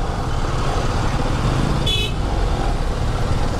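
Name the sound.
road traffic with cars and horns honking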